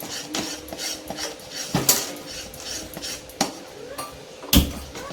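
A utensil scrapes and knocks around a pan as Mysore pak batter is stirred continuously over low heat, with repeated soft strokes and a few sharper metallic clinks, close by.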